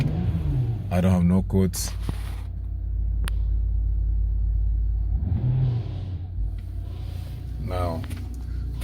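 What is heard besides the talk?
2006 BMW 325xi E90 N52 engine starting and idling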